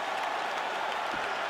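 A crowd in EA Sports UFC 5 cheers and applauds at the end of a fight, a dense, steady roar filling the whole moment without pause.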